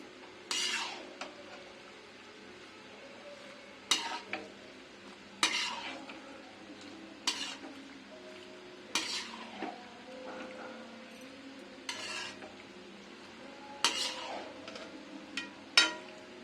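Pasta spread and stirred in a pan over a low flame for creamy pasta, with a sequence of sharp scraping and clinking strokes at irregular intervals over a soft simmer, close and fairly quiet.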